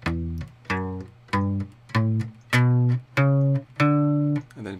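Bass guitar plucks a major scale in fourth position, one clear note at a time in a steady ascending run of about seven sustained notes, close and alone with no talking.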